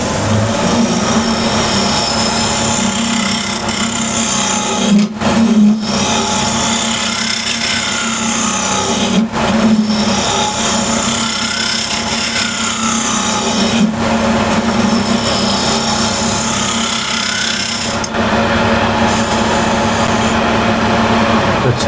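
A woodturning tool is sharpened to raise a fresh burr, a loud continuous grinding rasp with brief dropouts as the tool lifts off and meets the wheel again.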